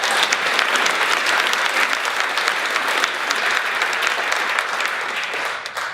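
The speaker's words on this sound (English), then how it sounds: "please a big round of applause for the NSC Southern Club" A large audience claps and applauds, a loud, sustained, even wash of hands that fades slightly at the end.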